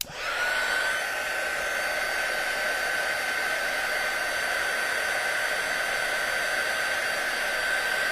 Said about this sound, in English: I think if I just heat it a little bit more, I can just go ahead and get under there and pull it out.